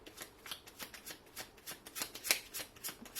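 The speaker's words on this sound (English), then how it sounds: "Let's just get one more card for clarity." Tarot cards being shuffled in a quick, steady run of soft riffling flicks, close and quiet, with no talking over them.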